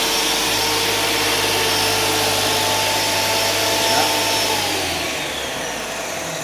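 A Graco A45 paint sprayer runs after being switched on, giving a loud, steady mechanical drone and hiss close by that eases slightly toward the end.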